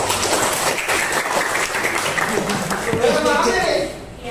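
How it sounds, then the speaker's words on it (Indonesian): Classroom applause for a correct answer in a history lesson: a steady wash of clapping mixed with chatter and some chuckling fills about three and a half seconds, then drops off. "Tepuk tangan buat istri"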